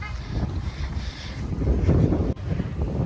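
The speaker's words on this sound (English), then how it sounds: "Windy walk to the aquarium." Strong wind buffets the microphone in low, rumbling gusts, continuous and close throughout the short stretch.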